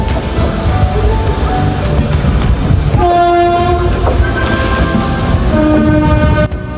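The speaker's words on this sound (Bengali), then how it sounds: "আমি এখন প্রয়াগরাজ জংশন রেলওয়ে স্টেশনে এসে পৌঁছলাম" A train at Prayagraj Junction railway station on the Howrah–Delhi main line, with steady loud rumbling and a long horn blast sounding twice, no voices heard.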